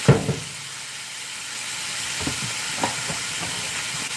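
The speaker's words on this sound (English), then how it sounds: "If you hear, some sizzling, it's the meat" Ground beef sizzles steadily in a hot pan, a continuous hiss with a few soft clinks and pops, no talking.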